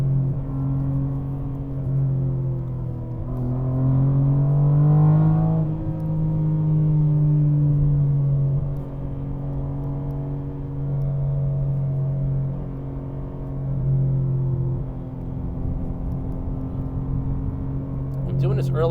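BMW G80 M3 with rear-wheel drive and six-speed manual, driven on a road on summer tires, its loud engine droning steadily with rising and falling pitch as it accelerates and shifts.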